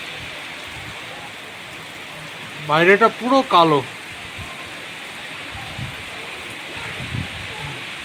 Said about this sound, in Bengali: সেই ক্লাউড বার্স্ট হওয়ার মতন বৃষ্টি হচ্ছে